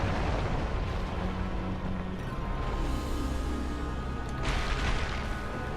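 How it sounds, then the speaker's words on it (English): Boss area-of-effect fire blast in Dark Souls, a rumbling roaring eruption of flame with a sustained low boom, swelling into a sharper burst near the end, with no talking. "Now, she can do an area of effect. Fire blast now, which could kill me."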